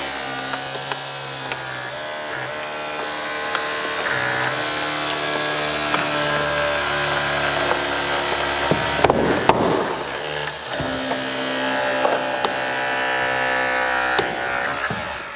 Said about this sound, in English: I'll just cradle this cutter, bring it in straight in from the side.